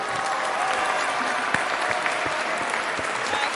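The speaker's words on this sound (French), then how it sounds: "Est-ce qu'on peut applaudir très fort pour Jaili Awards ce soir?" A crowd at the Jaili Awards ceremony applauds in a continuous, even roar of clapping with a few sharper individual claps standing out, while voices murmur faintly underneath.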